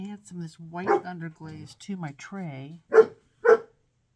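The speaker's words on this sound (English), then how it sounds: "and then he barks for somebody to get it out for him" A dog gives two short, sharp barks in quick succession after a stretch of someone talking, close by and fairly loud in an otherwise quiet room.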